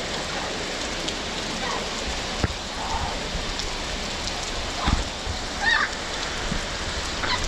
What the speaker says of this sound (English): We got caught in this lovely torrential downpour